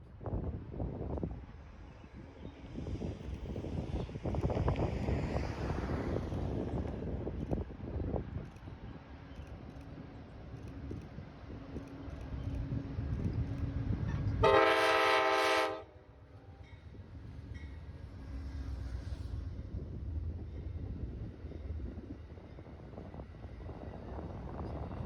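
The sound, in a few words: delayed Amtrak train passing Alto Tower, Altoona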